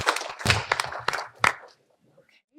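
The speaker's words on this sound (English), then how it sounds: "Another round of applause for all the participants." A small audience at a village state-of-the-community gathering gives a brief, scattered round of clapping. A few loud claps stand out before the sound quickly thins and fades to near silence.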